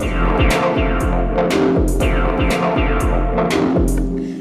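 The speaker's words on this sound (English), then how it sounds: "can now add reverb to the sound." A Novation Circuit synthesizer plays an electronic loop with thumping bass pulses about twice a second and bright, washy hits that ring out with a spacious reverb tail; steady and loud, no voices.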